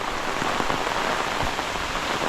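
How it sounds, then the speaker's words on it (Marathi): Heavy rain pours steadily on surfaces in a Konkan village during a windy storm, a dense, continuous hiss close by with no voices. "पाऊस पण भरपूर आहे"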